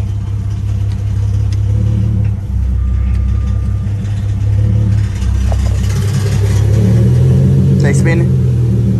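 An Infiniti G37 with a VR30 engine swap rumbles steadily with a deep engine note that swells as it revs and the wheels spin, while people talk over it.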